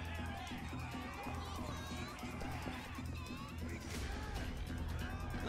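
A dense crowd murmurs and shouts in a Yakuza: Like a Dragon street scene, a continuous faint wash of many voices and bustle with overlapping chatter throughout.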